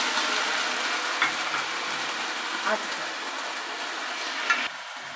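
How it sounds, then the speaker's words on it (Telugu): Ginger garlic paste frying in a pan for chicken pulao, a dense steady sizzle with a few soft stirring scrapes, close and fairly loud. "నెక్స్ట్ దీంట్లో ఇప్పుడు అల్లం వెల్లుల్లి పేస్ట్ వేసుకుందామండి"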